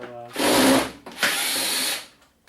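Close by, an electric screwdriver whirs in two strong bursts of about a second each with a short pause between, backing screws out of a TV.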